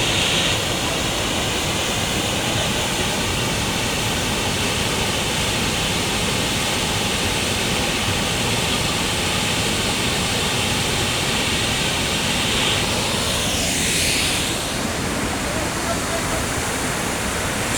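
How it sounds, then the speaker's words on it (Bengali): Amiakhum, Bangladesh's largest waterfall, roars as a loud, constant rush of falling water that fills the whole scene, with a brief faint whistle-like sound near the end. "এখন আমি দাঁড়িয়ে আছি বাংলাদেশের বৃহত্তম জলপ্রপাত আমি আখুমের সামনে।"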